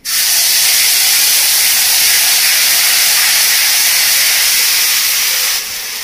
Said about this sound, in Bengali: এবার দিয়ে দেবো আমি পেঁয়াজ বাটা